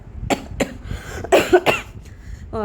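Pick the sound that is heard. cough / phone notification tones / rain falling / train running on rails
cough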